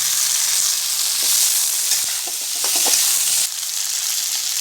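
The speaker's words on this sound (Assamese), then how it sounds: "এতিয়া মোৰ পিঁয়াজটো অলপ ভাজ খোৱাৰ পিছত মই বিলাহীখিনি অলপ ভাজ" Tomatoes frying in a pan with onion, ginger and garlic for an Assamese mustard fish curry, giving a steady loud sizzle with brief stirring clatter partway through and no talk.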